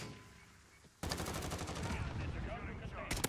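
SKS rifle fire in Call of Duty Modern Warfare: after a quiet lead-in, a rapid string of sharp, evenly spaced semi-auto shots rattles close and loud for about two seconds, then another quick burst near the end.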